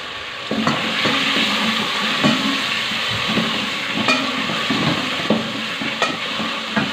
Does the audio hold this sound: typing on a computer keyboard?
no